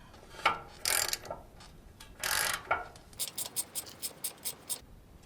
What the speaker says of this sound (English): I got a little pulley puller on here now, and I'm just gonna tighten it up